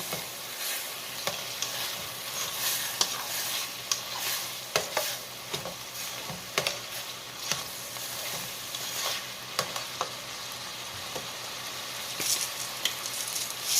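Ground meat for hamburger soup sizzles in a pot while a utensil stirs it. Close, continuous frying runs under repeated scraping and clicking strokes.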